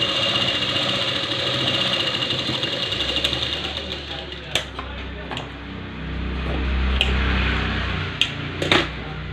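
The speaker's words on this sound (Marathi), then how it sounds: "आणि कडेकडेने शिलाई मारून घ्यायची पाव इंचावर" A sewing machine stitches a blouse seam in short runs, its mechanical whirring starting and stopping with sharp clicks between bursts, close by and fairly steady.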